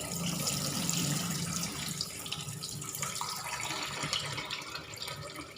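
Water runs steadily from a kitchen tap into a sink while food is washed, a continuous close splashing hiss with small shifts as items move under the stream.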